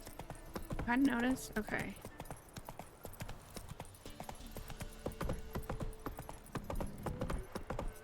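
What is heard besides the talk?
horse Roach hooves clip-clopping in Witcher 3 video game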